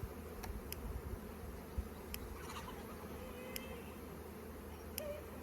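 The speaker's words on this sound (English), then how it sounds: "Now this hive is packed with bees" Honeybees in a packed hive during a colony split, a steady, dense, low buzzing hum that fills the whole stretch, with faint clicks and knocks of hive frames being handled close by.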